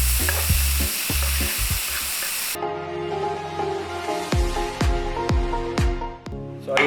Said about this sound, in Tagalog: So isalang muna natin yung bacon.